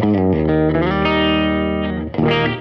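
A clean electric guitar tone from a Fender Mustang Micro Plus headphone amp with slapback delay, playing a sustained, ringing chord phrase with a bend near the end, loud and close with no voices.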